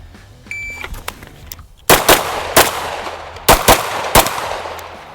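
Pistol shots from a SIG P320 crack loudly at a shooting range, a close pair followed by a single shot, then a quick burst of three, with quieter range ambience between.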